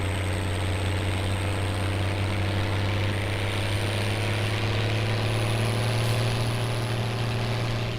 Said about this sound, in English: The sound of that engine, that is something else.